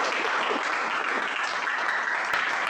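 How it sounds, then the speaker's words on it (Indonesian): Steady, dense applause from a class of students clapping for a fellow student in a classroom, sustained and fairly loud throughout without any break. "mari kita berikan aplaus"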